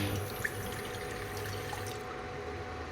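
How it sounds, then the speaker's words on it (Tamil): Water from a glass pours steadily into a cooking pot, a continuous close splashing trickle with no talking. "நம்ம எடுத்து வச்சுருக்கிற ஒரு கிளாஸ் தண்ணியை சேர்த்துக்கலாம்"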